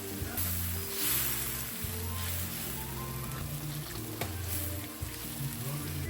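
Spices with ginger-garlic paste, coriander, turmeric and chilli powder fry in a pan with a splash of water, giving a steady close sizzle and crackle throughout, with no talking.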